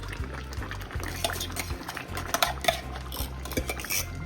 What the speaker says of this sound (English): I'm adding my bean